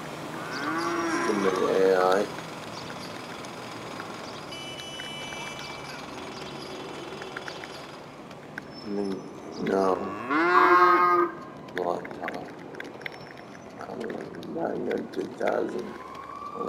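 In GTA Online a cow moos several times, with long, loud lowing calls in bursts over ambient game noise and a distant siren.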